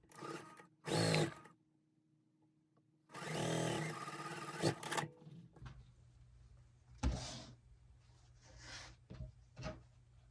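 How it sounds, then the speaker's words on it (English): A sewing machine stitches a quilt block in two motorised runs, one short and one longer, a couple of seconds apart. Clicks and handling noises from the fabric and machine follow at close range. "Okay, now I'm going to sew."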